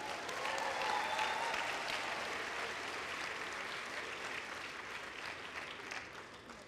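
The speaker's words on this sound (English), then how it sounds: "Can we get another round of applause?" A round of applause from a luau audience after a dance performance, dense clapping that is fairly faint and distant and fades slightly toward the end.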